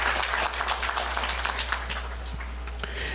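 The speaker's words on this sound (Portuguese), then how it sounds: "Peço uma salva de palmas aos homenageados" An audience applauding honorees at an anniversary award ceremony for the ACA, a dense, steady patter of many hands clapping in a hall with a constant low hum beneath, no voices.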